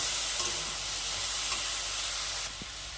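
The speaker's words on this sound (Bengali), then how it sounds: "আদাটা দেওয়ার পরে আবারও ভালো করে নেড়ে চেড়ে সুন্দর কষিয়ে কষিয়ে পুরটাকে রেডি করি" Pitha filling with ginger stirred and frying in a pan, a steady broadband sizzle with soft scraping strokes, fairly close, quieting slightly near the end.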